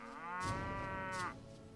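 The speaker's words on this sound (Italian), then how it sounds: "Altre mucche." A cow lets out a long, drawn-out moo in the medieval video game Mount & Blade Warband, a single clear low call lasting about a second against a quiet background.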